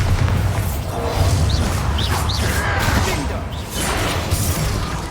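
In the video game Hogwarts Legacy, a Bombarda spell sets off booming blasts with crashing debris and whooshes, loud and continuous across the whole stretch, mixed with game effects.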